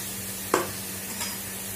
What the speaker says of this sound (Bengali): বেগুন ভাজা ভাজা হয়ে এসছে